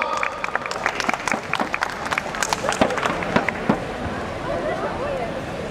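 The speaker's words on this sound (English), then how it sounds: "Round of applause for Chaitanya." Audience applause and cheering for a ten-year-old performer named Chaitanya at a performance, a dense crowd clapping with scattered sharp claps, steady and fairly loud throughout with some voices mixed in.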